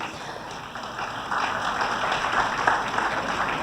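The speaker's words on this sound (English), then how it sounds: "Please give him a big round of applause." Audience applause at a college event on stress management, a broad steady patter of many hands that swells louder partway through and carries on, with no voices over it.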